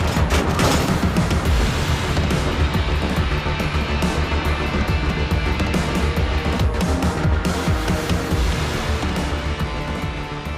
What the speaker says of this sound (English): Breakneck is flanking around and is shooting the E100s from behind